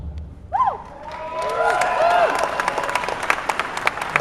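Audience applause and scattered cheering at a William Shatner Q&A panel at Toronto Fan Expo 2011, a sustained crowd of clapping hands swelling after a brief voice, moderately loud and steady.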